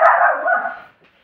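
A single short, close bark from a boxer dog in a home, loud and alone, trailing off quickly.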